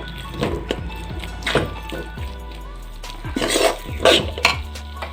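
Egg being stirred into a pan of banana flower, with a spatula scraping and knocking against the metal pan in an uneven rhythm of close, fairly loud clatters.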